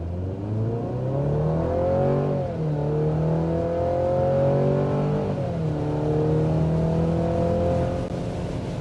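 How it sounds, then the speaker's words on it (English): Engine of a 2024 midsize pickup, a Toyota Tacoma or Chevy Colorado, accelerating hard from inside the cab, rising through gears with two shift dips, a loud, steady drone with no talk. "Acceleration a little faster than 60 miles per hour."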